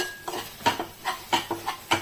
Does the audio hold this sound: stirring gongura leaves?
yes